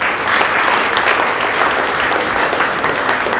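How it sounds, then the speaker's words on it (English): An audience at a school Presentation Day applauds student representatives, dense steady clapping from many hands filling the room without a break, loud and close. "Please give a huge round of applause."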